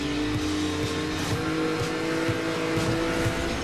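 Car engine revving and accelerating in the racing video game Need for Speed Most Wanted, a steady close roar with rhythmic pulses and faint tire squeal, no voices.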